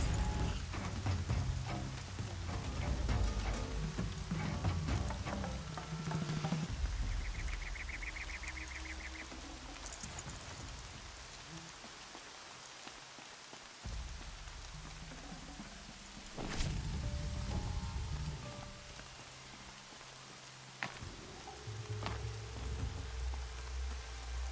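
Rain falling in the game Horizon Zero Dawn, a steady soft patter on surfaces with occasional louder rustles and brief bird-like calls, no talking.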